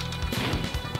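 A skateboard smashes into a fighter in the Sega Saturn game Fighters Megamix, with a cluster of loud thwacking crash impacts packed into a second of dense game sound.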